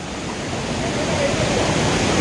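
Steady roar of a remote, hidden waterfall in Mayurbhanj, Chaulibhaja, heard as continuous broadband rushing water, loud and unbroken throughout.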